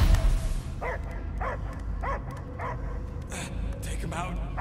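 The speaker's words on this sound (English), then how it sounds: "I hear only barking." In the Guardians of the Galaxy video game, a dog barks in several short, echoing, repeated barks set against a low, rumbling game soundscape, with speech heard around them.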